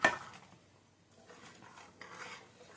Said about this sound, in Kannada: ನೋಡಿ ಲಿಡ್ ಓಪನ್ ಮಾಡ್ತಾ ಇದ್ದೀನಿ ನೋಡಿ ಕುದೀತಾ ಇದೆ ಮಿಕ್ಸ್ ಮಾಡ್ಕೊಳ್ರಿ